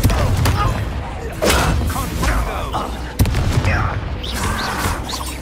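A Confringo fire blast cast in the Hogwarts Legacy video game, heard as sharp explosive bursts, one near 0.1 s and another around 3.2 s, over loud game noise and battle effects, with voices throughout.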